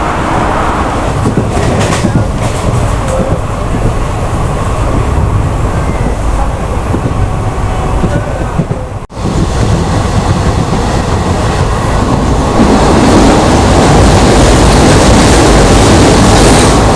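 A passenger train runs close by near Neyyattinkara in Kerala, heard from aboard an intercity express as a loud, steady rumble of wheels and carriages, with a brief dip midway before the noise swells again.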